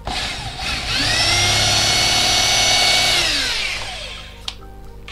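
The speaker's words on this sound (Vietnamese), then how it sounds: "Test chức năng khoan thường." A Japanese-made electric power drill in normal drilling mode spins up, holds a loud steady high whine for about three seconds, then winds down, followed by a couple of sharp clicks.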